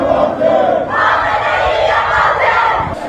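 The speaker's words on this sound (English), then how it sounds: "crowds having set objects on fire can be heard chanting Musk's put down" A protest crowd in Iran chants loudly and continuously in unison, with objects set on fire nearby; the massed voices swell and dip in a steady rhythm with no pause.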